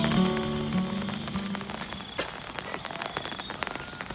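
Steady rain falling outdoors at night during a fishing trip in rural Thailand, a dense close patter of drops with scattered sharper hits, insects chirping underneath and no voices.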